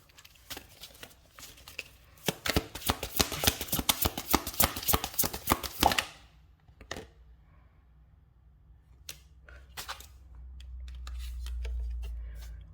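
Rapid riffling flutter of cards being shuffled for several seconds, then a few scattered taps and soft handling noises, with a low rumble toward the end.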